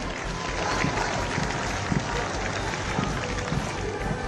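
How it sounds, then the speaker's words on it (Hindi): Loud, sustained applause from a large crowd greets Garud commandos at an Indian Air Force anniversary full dress rehearsal in Prayagraj, a dense steady roar of clapping with a voice faintly underneath. "जोरदार तालियों के साथ स्वागत कीजिए हमारे गरुड़ कमांडोज"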